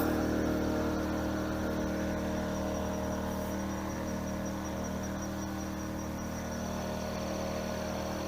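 A WEN 56225i inverter generator running steadily at about 4,650 RPM with econo mode off, giving a constant, even engine hum with a buzzing tone that holds throughout, heard alone without talk.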